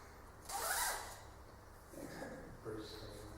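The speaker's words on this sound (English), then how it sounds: "Zipper off as well, just to make sure. Zip it up." A clothing zipper is pulled up in one quick, close rasping burst, followed by quieter rustling and small handling noises.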